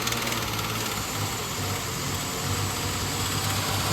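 A car engine on a PCV and EGR test is held at a steady raised speed of around 2,000 to 2,500 RPM, giving a constant, even hum with light vibration and no talk.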